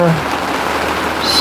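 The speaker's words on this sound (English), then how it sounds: "So, it is raining, as you can see." Summer rain falling by a pool, a steady, close hiss of drops spread evenly through the short stretch with no breaks.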